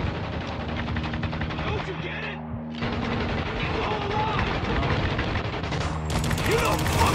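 Heavy gunfire rattles through a firefight in the Spec Ops: The Line video game, with rapid bursts and booming shots crowding together while voices shout over the battle.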